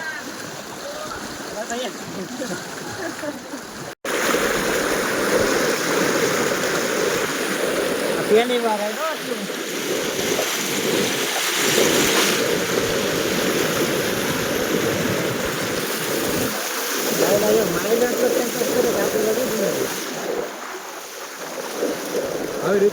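People wade through the flooded Malan River at Mahuva, half submerged in the water: a loud, continuous rush of floodwater with splashing throughout, and voices talking over it.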